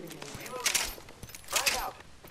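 Gunfire in the video game Apex Legends, a burst of shots in two louder clusters with scattered smaller reports between, heard close and fairly loud.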